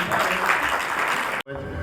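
Audience clapping at an art exhibition opening at a Punjab art gallery, a steady burst of applause lasting over a second that cuts off abruptly.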